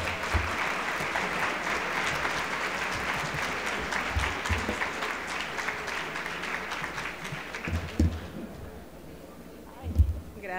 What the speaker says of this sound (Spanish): le demos la bienvenida con un fuerte aplauso a la doctora Yasmith de la Torre